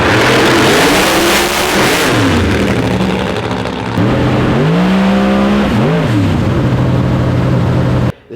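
A Hemi-powered Pro Mod drag car roars loudly at a racetrack, its engine surging and revving with pitch sweeps that drop and climb again before cutting off abruptly.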